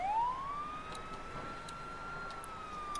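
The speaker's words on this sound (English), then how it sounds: "Oh, I hear sirens" In The Walking Dead: 400 Days video game, a distant police siren rises into a long, steady wail that holds at a moderate level over faint background ambience, with no speech.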